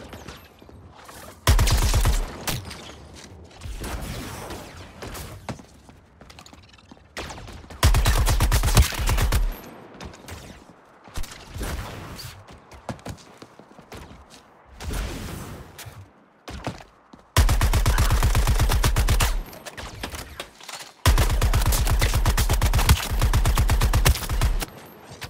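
Automatic gunfire in the video game Suicide Squad: Kill the Justice League comes in several long, loud, rapid volleys separated by quieter pauses with scattered single shots and mechanical clatter.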